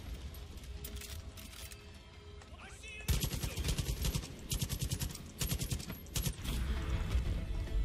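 Gunfire from Far Cry 5 gameplay during an outpost raid, with repeated rapid bursts that turn louder and denser after the first few seconds, mixed with other game sounds.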